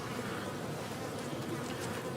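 Steady, dense buzzing of many honeybees close by, a continuous hum with no voices.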